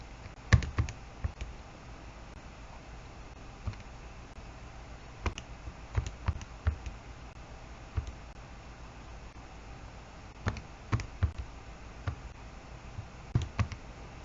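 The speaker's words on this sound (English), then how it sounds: "this one's going to be a little more difficult to type in the calculator" Calculator keys being pressed one at a time, scattered light plastic clicks and taps in irregular bursts with long quiet gaps, close and fairly soft.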